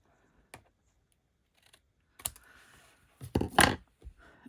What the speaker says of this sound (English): I'm just going to snip this off this end.